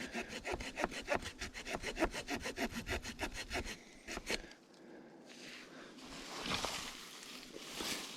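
A hand saw cuts through a stubborn tree branch on a trail in the Olympic hills, with quick regular rasping strokes for about four seconds, then the strokes stop and rustling follows.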